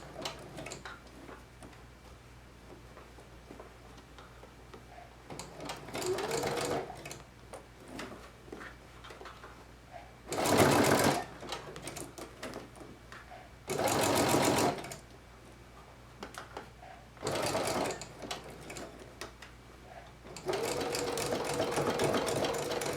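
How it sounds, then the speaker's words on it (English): A sewing machine stitches a plush ponytail piece in several separate bursts of rapid mechanical clatter, with quiet pauses and handling noise between runs. "I'm very thankful I was able to machine sew this"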